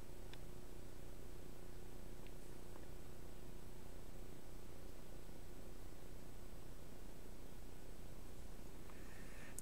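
White noise from a signal generator played through an amplifier fills the whole stretch as a constant, even hiss with a faint steady hum beneath it, unbroken and free of voices.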